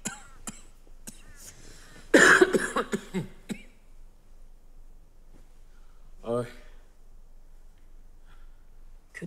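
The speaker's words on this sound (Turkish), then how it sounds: "kötü öksürüyorsunuz" A woman coughs in a harsh burst of several rough coughs and throat clearing, close and loud, with quieter sounds of movement before and a short vocal sound after.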